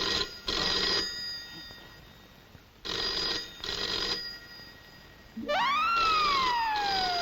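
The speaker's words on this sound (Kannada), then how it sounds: "ಸುಮ್ಕಿರು, ನಾನು ಫೋನ್ ನಾ ಎತ್ತೀನಿ" An old telephone bell rings in bursts with short pauses between them, clear and fairly close, and then a rising, siren-like tone sweeps in near the end.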